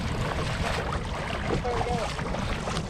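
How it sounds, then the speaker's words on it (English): Wind buffets the microphone out on a lake during kayak bass fishing, a loud constant rush with water and boat movement beneath and a brief faint squeak. "It's a tad bit windy today."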